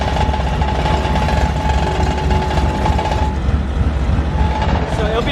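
Air ride compressors sit unbolted on a 1964 Chevrolet C10 and run with a loud, continuous rattling buzz, a rapid hammering vibration with a steady hum underneath.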